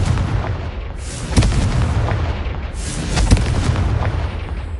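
Repeated fire-spell blasts from the Hogwarts Legacy video game: broad rumbling explosions with sharp bursts near 1.4 and 3.2 seconds over continuous loud, dense noise, with no talking.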